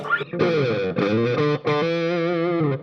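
Heavily distorted, effects-laden guitar tones through a Colorsound Distorter pedal sustain and bend in several phrases with short breaks between them, loud and buzzy with a wobbling chorus-like shimmer.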